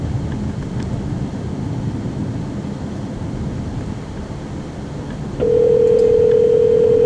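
A Ford Sync hands-free system in a 2014 Ford Escape places a call, a quiet cabin hum giving way to a sustained steady dial tone near the end.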